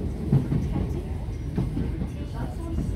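A train at a rail station gives a low, continuous rumble with faint clatter, with muffled voices nearby.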